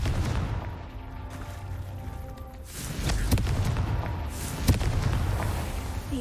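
A Confringo blasting spell cast in Hogwarts Legacy, heavy booming blasts over a low rumbling game background, with a few sharp impacts standing out.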